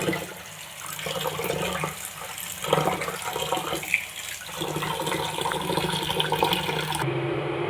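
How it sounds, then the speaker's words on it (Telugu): Water runs and sloshes steadily for several seconds as lentils are rinsed, with a brief lull near the end. "పప్పుని ఇలా టూ టైమ్స్ క్లీన్ చేసి పెట్టుకోవాలి"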